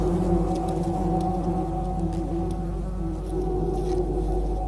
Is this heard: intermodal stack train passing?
no